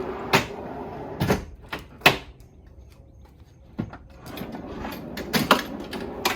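A drawer on heavy-duty slides inside a Jeep camper build, heard as a few sharp knocks and clunks followed by a rolling slide, close up with no talking.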